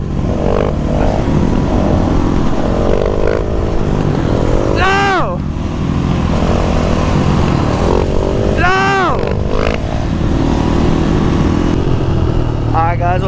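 A KTM 450 supermoto motorcycle rides along with a loud, steady engine drone, joined by rising whine sweeps from passing vehicles, while people talk over it.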